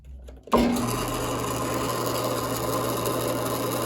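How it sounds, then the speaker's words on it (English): Bandsaw starting up and cutting wood for a reinforcement ring, a sudden onset followed by a steady loud mechanical whir and hum that continues unbroken. "So back to the bandsaw again."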